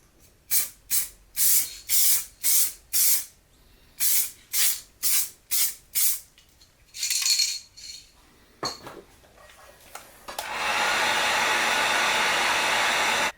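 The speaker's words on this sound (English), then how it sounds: "A good idea is to use the hot air gun on the parking sensors" A hot air gun blows a steady, loud rushing hiss over painted car parking sensors for the last few seconds, preceded by a rapid series of short sharp spray bursts and clinking handling sounds.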